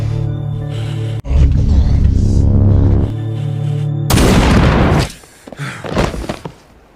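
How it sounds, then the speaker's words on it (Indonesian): Gunshots ring out in a sniper action film scene, with sharp heavy booms and thuds cutting in abruptly among loud cinematic sound, followed by quieter rustling. "Melihat putranya dalam bahaya, Thomas segera melepaskan tembakan jitu."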